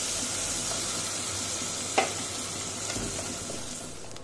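Small shallots cut lengthwise and a sprig of curry leaves sauté in hot oil for vadai mor kulambu, giving a steady close sizzle with a single clink of stirring partway through.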